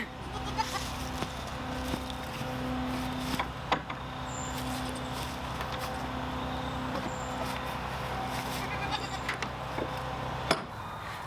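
Young male goats in a pallet-fenced pen bleat repeatedly at a moderate distance, short calls scattered over steady outdoor background noise with occasional clicks and thumps.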